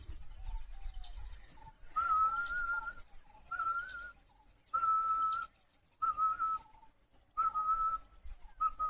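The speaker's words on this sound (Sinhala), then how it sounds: "හැරෙනවා විසිල්ලක් ගාවා." A person whistles outdoors in Udawalawe National Park, Sri Lanka, sending repeated short, level, high-pitched notes in separate bursts, with faint insect and bird sounds in the background.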